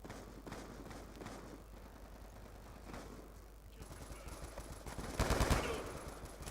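Gunfire in Call of Duty Black Ops 2 multiplayer: rapid rattling shots play under background game noise, building to a louder automatic burst near the end.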